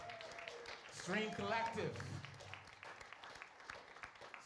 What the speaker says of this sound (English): Please give a nice warm round of applause for Miss Tiffany Fox